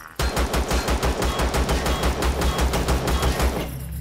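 Rapid automatic gunfire from a weapon in the sci-fi survival game Empyrion Galactic Survival, a steady burst of evenly spaced shots lasting several seconds, loud and close, with no talking.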